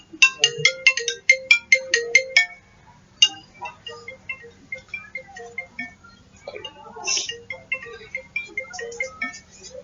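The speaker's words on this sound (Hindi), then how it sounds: "यहाँ कुर्सी पे आके बैठा शुरू हो गया तो टेलीफोन शुरू हो जाता है" A telephone's melodic ringtone chimes in a quick run of bright notes, then keeps playing a looser tune, loud and close with no one speaking over it.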